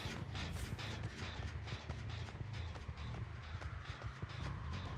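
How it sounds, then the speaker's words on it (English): Rapid footsteps in a multiplayer horror game, a steady thudding patter that runs the whole time alongside other dense game noise and low rumble. "That's my footsteps I'm hearing."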